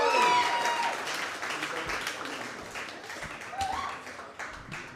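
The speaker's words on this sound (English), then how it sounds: "Everybody, please clap for Christian" Comedy club audience applauding as a comedian is brought on stage, a strong burst of clapping and a few cheers that slowly thins out, with some voices over it.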